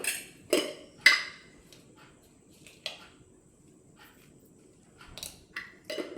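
Ripe banana mashed and mixed with sugar and salt in a bowl, heard as a few sharp utensil clinks and scrapes against the dish, clustered at the start and end with quiet gaps between.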